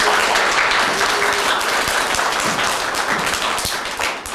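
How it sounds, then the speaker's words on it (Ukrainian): A crowd at a Defenders of Ukraine and Ukrainian Cossacks Day ceremony in Berdychiv gives sustained, dense applause in thanks to soldiers, steady and fairly close throughout before tapering slightly at the end. "Прийміть від нас ці оплески, вдячності."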